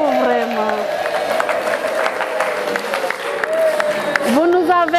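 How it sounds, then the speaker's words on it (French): Former students of a lycée receive a crowd's sustained applause and cheering, dense and fairly loud throughout, with voices rising over the clapping near the end. "Je vous demande de vous applaudir pour vraiment."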